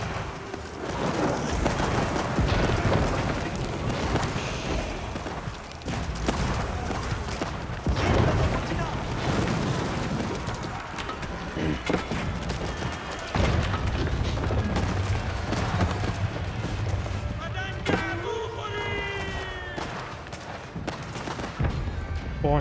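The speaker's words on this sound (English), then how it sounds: "Cannons engaging the keep," Cannons in an Age of Empires 4 battle pounding a fully upgraded keep, repeated booms and crashes amid dense clashing combat noise, with a commentator talking continuously over the fighting.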